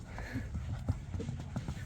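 Hooves of a light, quick-turning horse clip-clop in a steady rhythm as it is ridden, carrying through faint background voices across a short stretch.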